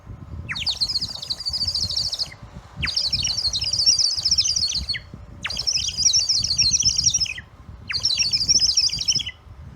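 Four bursts of rapid, high warbling chirps from a water-filled clay whistle imitating a sparrow, each lasting about two seconds with short pauses between.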